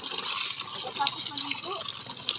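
Water pouring in a steady broadband stream, close by and continuous, with people talking over it throughout.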